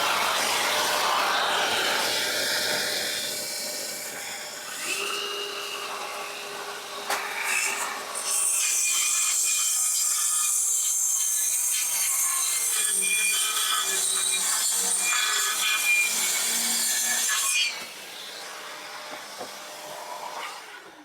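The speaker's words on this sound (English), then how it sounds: "we've got the 40-tooth blade in there now, the fine woodworking blade. We'll give that a whirl" An Evolution saw fitted with a 40-tooth fine woodworking blade cuts through wood, whining loudly and steadily for about seventeen seconds before spinning down, heard up close with no talking.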